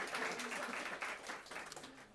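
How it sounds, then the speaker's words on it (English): Faint applause from an audience at a journalism and PR awards ceremony, a dense, even patter of clapping with no talk over it. "quite right, applause."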